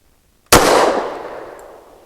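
A single loud, close shot from an XDM Compact .45 ACP pistol with a 3.8-inch barrel firing a 185-grain load, a sharp crack followed by a fading ring-out after a moment of silence.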